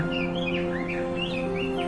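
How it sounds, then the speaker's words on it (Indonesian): Small birds chirp and tweet in a sunny vineyard, trilling in quick repeated phrases over a steady low tonal hum, close and continuous with no talking. "Burung-burung berkicauan dan terbang dari satu ranting ke ranting lainnya"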